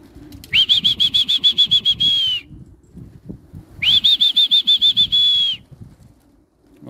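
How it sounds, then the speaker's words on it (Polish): Two bursts of rapid rhythmic wing flapping sweep past as a flock of pigeons flies in, each with a steady high whistling tone riding over the wingbeats. "właśnie teraz nadleciała już taka większa grupka, bo do tej pory było tylko 7 gołębi"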